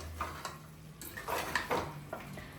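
A spoon stirs mutton curry with masala in a pot, Telangana style, producing several light metallic scrapes and clinks at irregular intervals against quiet kitchen background, with no voices.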